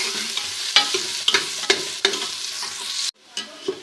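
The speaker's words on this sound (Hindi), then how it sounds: "प्याज को जो है वो हल्का सा ब्राउन करते हैं" Onions frying and browning in ghee in a pot, a steady close sizzle broken by repeated scraping stir strokes, with a brief pause near the end before the stirring resumes.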